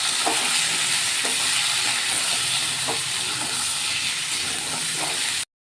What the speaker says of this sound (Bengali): এর উপর হলুদ নুন দিয়ে দিয়েছি, দিয়ে ভাজবো।